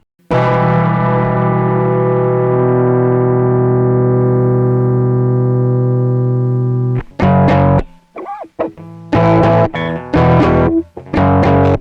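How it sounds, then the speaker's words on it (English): Electric guitar run through a multi-chorus effect on an Akai MPC One, with a loud, shimmering sustained chord ringing for about seven seconds, followed by a series of punchy, swirling strummed chords and brief pauses. "Okay, great, now let's add a chorus effect."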